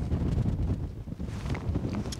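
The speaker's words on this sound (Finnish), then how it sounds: "viileä tuuli." Cool wind on a rainy day in the Norwegian mountains while hiking and fishing, heard as loud, gusty buffeting on the microphone with a steady low roar and no talking.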